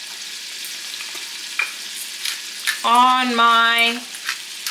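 Seasoned steak meat sears in a pan with a steady close sizzle, while someone speaks briefly over it.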